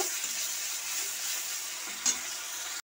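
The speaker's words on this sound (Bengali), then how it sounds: "আমি এর মধ্যে এবার আদা রসুন বাটাটা দিয়ে দিচ্ছি তেলের মধ্যে। ভালো করে আমি ভেজে নেব।" Ginger garlic paste added to hot oil after fried onions for a quick meat curry: a steady, even hiss of sizzling oil with a faint stir and a small clink near the end.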